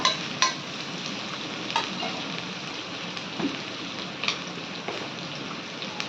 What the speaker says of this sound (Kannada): ಒಂದು ಸತಿ ಚಂದ ಕಲಿಸ್ಕೊತೀನಿ ನಾನು ವೆಜಿಟೇಬಲ್ಸ್ ಎಲ್ಲ